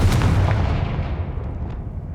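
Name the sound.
Confringo curse explosion in video game Hogwarts Legacy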